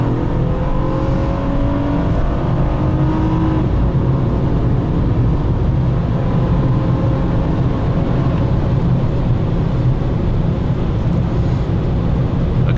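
A 2014 Honda Accord V6 with a KTuned Stage 1 setup accelerates hard from a launch on an open road, its engine note climbing steadily through the gears as a loud, continuous interior drone with no talking.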